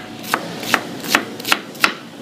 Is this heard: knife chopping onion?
yes